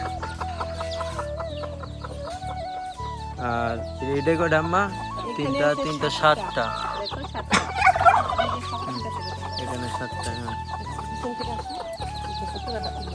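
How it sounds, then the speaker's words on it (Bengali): Two desi hens cluck close by among their many chicks, whose thin chirps and peeps are scattered throughout, while people talk over the birds for most of the clip. "দুইটা মুরগি অনেকগুলা বাচ্চা দিয়েছে এখানে"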